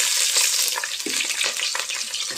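Onion pieces, capsicum and vegetables frying in a pan for vegetable biryani, giving a steady close sizzle broken by a few scraping stirs, with no talking.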